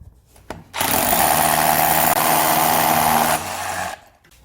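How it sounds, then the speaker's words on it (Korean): A hammer drill bores an anchor hole into a kitchen wall near the sink, a loud, close, continuous whine lasting under three seconds before spinning down. "이 한마드릴 이걸 껴서 그리고 이쪽도 구멍을 내주세요"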